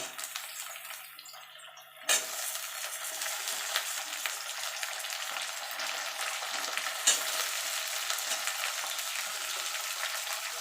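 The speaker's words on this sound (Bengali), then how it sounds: "এবার আলুর সঙ্গে মূলোটা একটুখানি নাড়াচাড়া করে নেব।" Potato and radish fry together in a pan, starting with a softer hiss that jumps into loud, steady sizzling, with occasional stirring scrapes and clinks up close.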